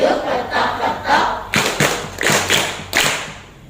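Rhythmic audience clapping in unison at a religious talk on fasting, several sharp grouped claps in a steady pattern, fairly loud and close with no speech over it.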